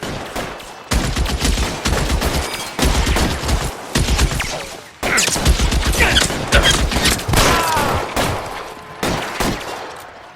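A shootout in the video game L.A. Noire Remastered brings loud, dense gunfire close by. Rapid volleys of shots overlap almost continuously, with brief pauses between bursts and no voices.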